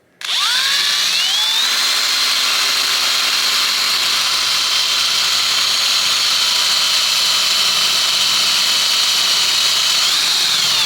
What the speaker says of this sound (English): I might drill a couple more in the middle and then connect the dots